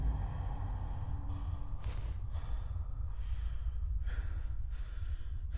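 A character in the video game Fallout 4 breathes heavily and gasps, with several sharp breathy bursts over a constant low rumble and no speech.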